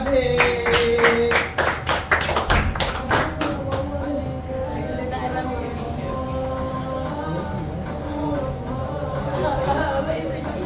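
Classroom applause for a pupil, a burst of sharp claps from a group that thins out after a few seconds, followed by murmuring voices and background chatter.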